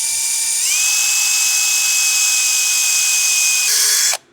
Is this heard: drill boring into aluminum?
yes